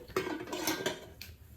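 A metal plate set down on top of an idli steamer pot while steaming vegetable momos, giving a short metallic clatter with a few ringing scrapes that fade within a second, close by and alone.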